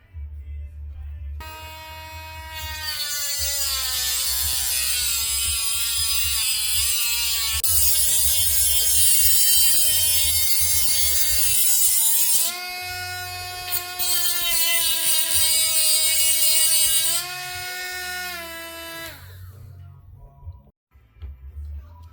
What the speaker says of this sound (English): The inner race of this bearing is still on the hub here. Got to cut it off with a Dremel.